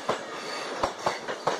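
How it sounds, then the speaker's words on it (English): A train passes over railway tracks at Thorpe Junction, sending out a quick run of loud, rhythmic clickety-clack wheel beats over a steady rumble, with no voices. "here's a train from London"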